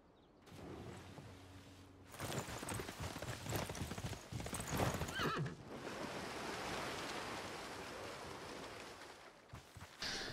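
Horses walk in the video game Civilization 6, a steady clip-clop of hooves at moderate volume, with no talking.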